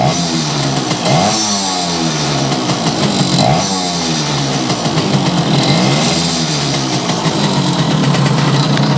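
A Yamaha 100 Trailmaster two-stroke motorcycle engine runs at a steady idle, then revs up and settles back twice, the pitch rising and falling in smooth sweeps, loud and close with no talking.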